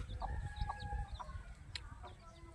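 Hen clucking in a poultry shed, several short clucks and calls at moderate distance, faint against a low, rumbling background.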